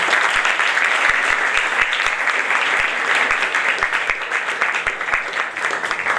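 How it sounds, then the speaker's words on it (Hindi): A church congregation celebrating its first anniversary in Karachi welcomes the pastor with loud, sustained applause, a thick continuous wash of clapping from many people with a few sharper individual claps standing out. "मैं चाहूंगी कि आप सब भरपूर तालियों के साथ उनको वेलकम करें।"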